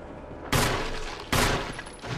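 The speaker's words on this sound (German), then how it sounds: "Kein Schuss verschwendet. Sehr schön. Jeder Schuss ein Treffer." Two heavy gunshot blasts from the Resident Evil HD Remaster game ring out about a second apart, each loud and sharp with a long reverberant tail.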